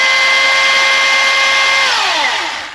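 A battery-powered electric chainsaw runs at a steady, loud, high-pitched whine close by, then spins down as the trigger is released, its motor tone sliding lower toward the end.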